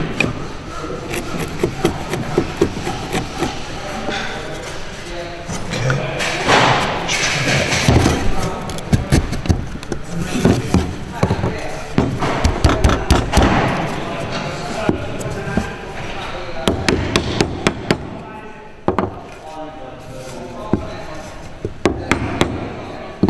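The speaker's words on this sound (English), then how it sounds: "So if we need to, we'll reduce the width. Use a chisel. Just take a bit down." Chisel trimming the width of a wooden tenon to fit a mortise, with close, continuous rasping and scraping and repeated knocks and thumps on wood, while a person talks over it.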